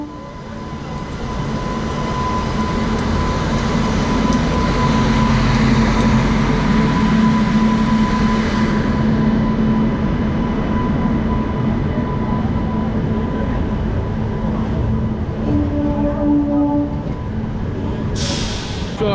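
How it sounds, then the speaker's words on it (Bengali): A passenger train pulls into Tarapith Road station, where it does not normally stop, and slows to a halt. A loud, continuous rumble and a steady tonal whine ease off partway through, and a short hiss comes near the end. "এখানে কিন্তু স্টপেজ নেই, তবু ট্রেনটা দাঁড়ালো।"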